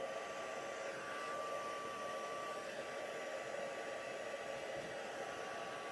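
A hair dryer blows over wet watercolour paint, giving a steady, even whir with a faint tonal hum that runs unbroken throughout and sits quietly at a distance, with no talking.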